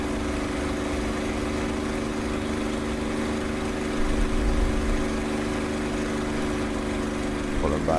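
Steady droning piston propeller engine of a P-51 Mustang in flight in a video game, a continuous mid-loud hum with a slight swell around the middle as the throttle is pulled back.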